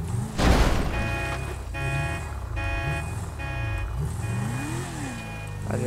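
Sports car in GTA 5 driving and pulling over to park, a loud thump at the start followed by a steady engine drone with rising and falling revs, close and continuous under game background sounds.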